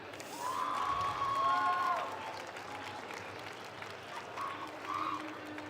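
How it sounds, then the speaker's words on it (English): Audience at the EGLX 2018 Smash Bros Ultimate gaming event claps and cheers, a sustained round of applause from the crowd with some whoops, fairly distant. "One more round of applause."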